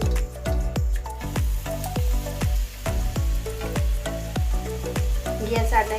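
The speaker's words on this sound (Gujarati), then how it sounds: "એવી જ રીતે બીજી તળી લઈએ." Green pigeon pea kachori frying in hot oil, giving a steady close sizzle and crackle with regular bubbling bursts throughout.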